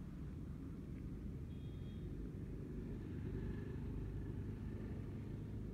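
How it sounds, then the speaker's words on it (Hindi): Passing road traffic, a steady low rumble of vehicles going by with a faint engine whine rising and fading, no voices. "ये गाड़ी वाड़ी चली जाए, शोर होता रहता है यार बहुत।"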